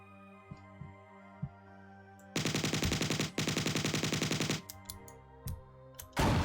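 Rapid automatic gunfire in the Marathon video game, a loud sustained burst of fast, even shots lasting about two seconds, then a second short burst at the end over quieter game sounds and scattered clicks.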